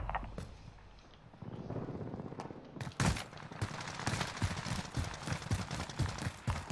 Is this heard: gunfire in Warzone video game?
yes